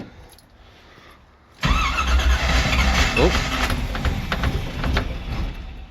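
Cold start of a 1984 Camaro Z28 with a 350 V8: a quiet lead-in, then the engine catches abruptly and roars loudly and close, settling into a rough, steady high idle with a brief squeal.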